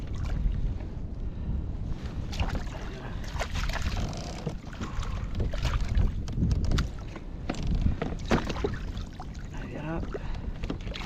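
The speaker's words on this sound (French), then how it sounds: "Il y a du vent maintenant." Wind gusting over a kayak while sea bass fishing on open water: a steady, close rush of wind buffeting the microphone, with light water and hull knocks underneath throughout.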